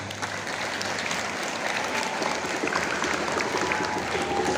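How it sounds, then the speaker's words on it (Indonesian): A school audience applauds at the opening of a student sports and arts festival, a dense, continuous round of clapping that holds steady throughout, with some voices faintly mixed in. "Tepuk tangan dulu buat Ajuna."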